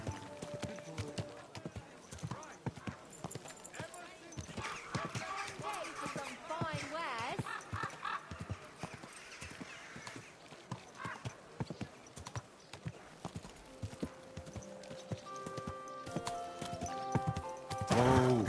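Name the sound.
horse hooves clip-clop from a video game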